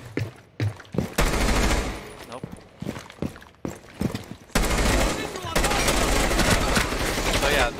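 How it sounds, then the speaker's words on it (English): Rapid bursts of automatic gunfire from pre-firing in Rainbow Six Siege, several close, loud volleys broken by short pauses and then a long sustained stretch of shooting. "I'll try pre-firing here."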